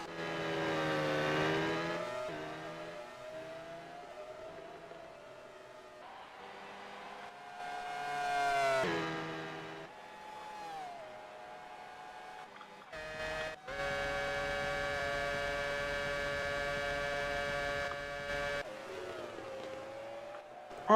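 F1 race cars in a racing video game at the Brazilian GP: high-pitched engine whines rising and falling as cars overtake side by side, with a loud sustained engine drone in the latter half.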